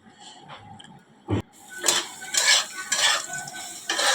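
A utensil stirs dry poppy seeds and potatoes in a pan: a few sharp metallic scrapes and clinks in irregular strokes, close and fairly loud, with a faint sizzle underneath.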